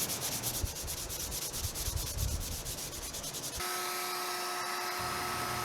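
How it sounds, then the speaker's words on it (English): Wood shelves being hand sanded to remove router burn marks and wood filler: a steady close scratchy rubbing with a quick back-and-forth rhythm, then a smoother constant hiss joined by a faint high whine. "I hand sanded most of the burn marks off caused by a dull router bit"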